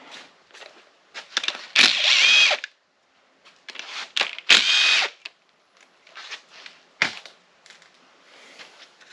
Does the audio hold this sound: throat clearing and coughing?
no